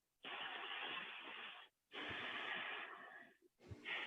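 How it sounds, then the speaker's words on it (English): A nervous, deep breath drawn high into the chest: two long, loud, airy inhalations with a short pause between them, then a shorter breath that cuts off. "Here is a nervous, deep breath."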